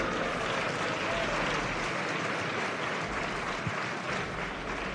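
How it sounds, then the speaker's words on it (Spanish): Sustained audience applause at a Spanish esports league event, a dense, steady roar of clapping from a large crowd lasting several seconds without letup. "Un aplauso para él."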